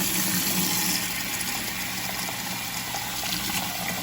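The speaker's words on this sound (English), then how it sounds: "we've released the water from the dates and we're gonna refill it." Cool tap water runs and splashes steadily into a container of soaking dates on their second day of soaking, a continuous close-up gush with no voices.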